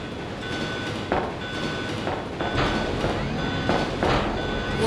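Moving train in the Biohazard 2 video game, a steady rolling rumble with periodic rattling clatter bursts, tonal hum throughout, and a voice speaking over it.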